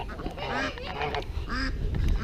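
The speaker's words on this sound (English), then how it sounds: "Can you see that duck over there?" A duck with a brown beak, out among farm poultry, gives a few nasal quacking calls at close range, with soft outdoor background noise between them.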